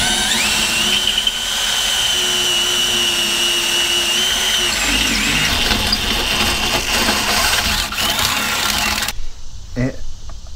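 Power drill whining steadily during a long-arm suspension build on a Jeep TJ, with a tonal hum and workshop clatter. The sound cuts off abruptly near the end, and voices can be heard faintly.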